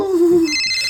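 A telephone rings with a steady electronic tone that shifts partway through into a brighter trilling pattern, close and fairly loud, with no talking over it.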